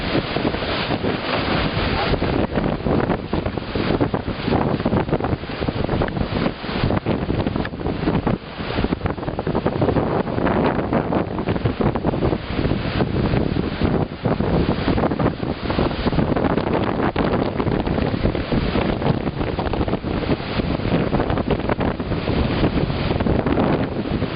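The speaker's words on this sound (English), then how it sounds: "look at the waves out there." A 2013 wind storm roars across the Turtle Flambeau Flowage, with strong wind buffeting the microphone and waves churning on open water, loud and continuous from start to end.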